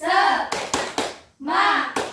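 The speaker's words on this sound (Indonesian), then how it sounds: "Ayo 1, 2, 3, tepuk semangat." A primary school class performs a rhythmic chant-and-clap cheer, young voices calling out together with bursts of hand claps in short, patterned groups, close and loud.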